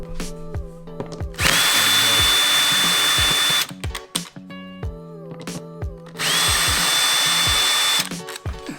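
A power tool removing screws from a motorcycle air box during ECU flash preparation, two sustained loud whining drill runs of about two seconds each, separated by clicks, clatter and handling noise nearby.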